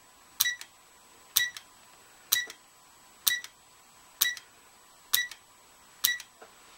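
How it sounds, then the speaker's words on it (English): Seven sharp mechanical shutter clicks from an Argus A2 camera at a steady pace about once a second, each a crisp snap with a quick follow-up click, close and clear. "Set the retest button and trip the shutter."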